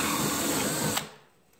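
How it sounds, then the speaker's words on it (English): A power drill whirs loudly and steadily for about a second while drilling a hole, then cuts off abruptly and winds down into quiet. "the first thing I need to do is drill my hole."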